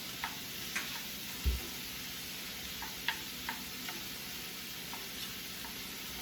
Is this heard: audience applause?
no